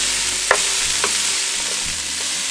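Peppers sizzle in a pan in a caravan kitchen, a continuous hiss broken by a couple of light utensil taps, with a faint hum underneath.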